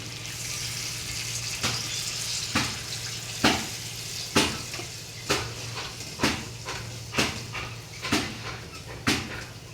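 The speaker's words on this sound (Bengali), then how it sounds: "উষ্ণ গরম জল দেওয়ার চেষ্টা করবে আমি জলটা দিয়ে দেবো" Warm water poured into chicken cooking in a pan, followed by stirring: a steady wash of liquid over low background hum, broken by about ten sharp scraping strokes at a regular rhythm, close and moderately loud.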